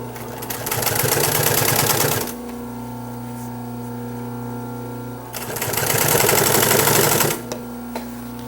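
A sewing machine stitching a leather cording seam runs in two steady bursts of fast, even mechanical rattle up close, separated by a low motor hum while it pauses, with no speech.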